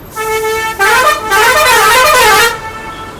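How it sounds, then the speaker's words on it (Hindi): Several car horns honk in busy road traffic, one steady tone giving way to overlapping, wavering blasts. The horns are loud and close and sound for most of the moment before the street goes quieter. "ट्रैफिक तो इतना ज़्यादा हो गया ना"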